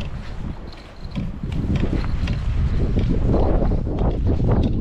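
Gusty wind at a coastal fishing spot buffets the microphone in a loud, rough rumble that builds and stays strong, with no talking.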